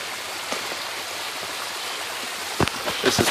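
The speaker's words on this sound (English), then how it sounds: "This is part of Cold Spring Creek as it makes its way down to the river valley and eventually into the Mississippi River" Cold Spring Creek trickles and burbles steadily, heading down into a river valley, with a few brighter splashes near the end; close and moderately loud, with no talking.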